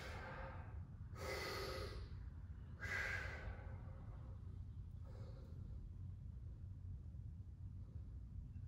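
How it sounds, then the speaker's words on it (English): Slow, deep breaths during a home-workout floor stretch, with a few long soft inhales and exhales spaced over several seconds, quiet and close against a low background rumble. "I'm taking about 10 deep breaths."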